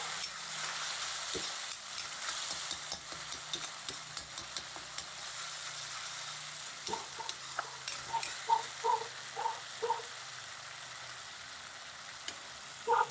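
Spices fry in a hot pan with a steady soft sizzle, broken by louder crackling bursts and spatters in the second half as they are stirred.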